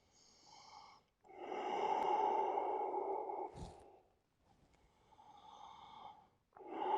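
Long, slow breaths during a yoga stretch, close and audible: a soft exhale, a long drawn inhale, a brief sniff, then another slow exhale and the start of a new breath.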